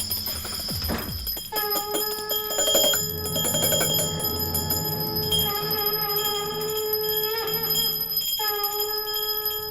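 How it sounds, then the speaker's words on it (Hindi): A bright metallic bell rings repeatedly at night with long shimmering overtones, several strikes overlapping and sustaining, loud and close with no talking. "इतनी रात को घंटी?"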